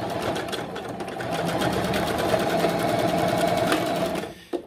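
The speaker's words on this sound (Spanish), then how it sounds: "Vamos a empezar cosiendo dos capas de mezclilla, como siempre lo hacemos, para ver qué tal presenta de problemas o a ver qué tal lo cose." A Juki HZL-353Z sewing machine stitches through two layers of thick denim, its fast, even mechanical whir running steadily and close for several seconds before it stops with a short clunk.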